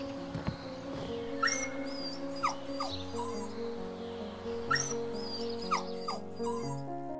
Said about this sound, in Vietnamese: Ôi, chú chó tội nghiệp, chân của mày bị thương rồi.